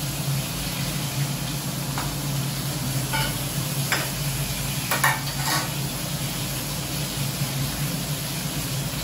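Black cumin seeds sizzle gently in hot oil for a fish curry, a soft continuous frying hiss with occasional stirring clinks and scrapes, fairly quiet and with no talking.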